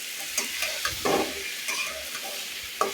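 Salted pumpkin fries in a pan with dried chillies, sizzling steadily up close while a spatula stirs it with occasional scraping knocks.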